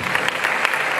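A church congregation breaks into loud, close applause during a pastor's Spanish-language sermon, a brief dense burst of clapping with sharp individual claps standing out.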